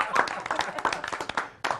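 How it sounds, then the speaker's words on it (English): One person claps hands in a quick, uneven run of sharp, close slaps with a voice murmuring underneath. "now I get to clap"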